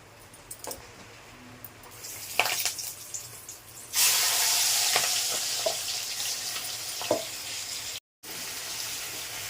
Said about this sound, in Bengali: সর্ষের তেল আমি একবারে মেখে বসিয়ে দেবো কড়াইয়ের মধ্যে